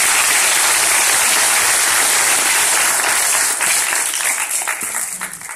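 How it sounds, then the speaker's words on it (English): Audience applause for sisters sharing their life stories, a dense, steady wash of clapping from a crowd that holds loud and then thins slightly toward the end. "I think we should clap it up for the transparency, the resilience, the strength of these sisters giving their life story."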